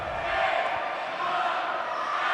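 A crowd at a wheelchair rugby match between Brazil and New Zealand in Wellington shouts in a steady, dense roar that continues through the whole moment.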